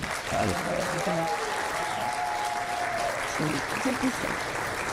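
Steady applause from an audience claps continuously, with a few voices calling out over it.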